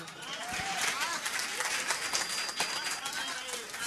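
Audience clapping at a Hindi comedy poetry show, a short burst of dense applause that holds steady for a few seconds at moderate, somewhat distant level.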